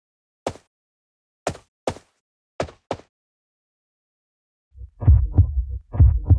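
A game heartbeat effect fading in over muffled player sounds: a few sparse, separate thumps at first, then louder, denser double-beat pulses swelling near the end.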